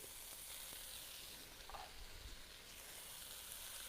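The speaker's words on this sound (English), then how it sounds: "Keep that sizzle going so it just cooks it all nicely." Chicken tikka pieces sizzle steadily in a frying pan, a close, continuous crackling hiss with a brief stir partway through and no talking.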